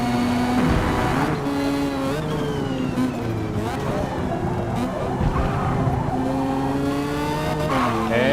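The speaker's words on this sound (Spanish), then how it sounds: "Llévenlo al límite de revoluciones, 8500 revoluciones por minuto, creo. Así pueden aprovechar toda la potencia del motor rotativo." A 1990 Mazda Savanna RX-7 rotary engine in a retro tuner racing video game revs hard toward its limit through repeated gear changes, with tire squeal and commentary running over it.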